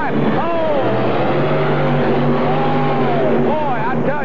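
A modified Chevrolet-powered pulling tractor roars loudly and steadily in the 9200 modified class at a 1986 indoor NTPA tractor pull in Indianapolis, its pitch sagging briefly as the throttle eases, while a commentator talks over it.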